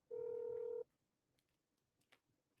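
A single steady electronic phone tone sounds for under a second, loud and clean, then gives way to faint line noise and a couple of small clicks.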